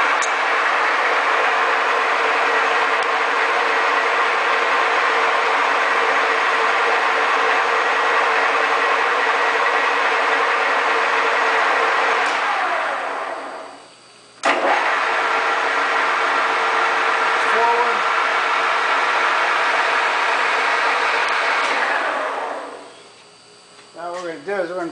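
A 14 by 40 inch gap bed engine lathe runs steadily in reverse with a loud, continuous mechanical whir, briefly stopping and restarting midway before spinning down near the end.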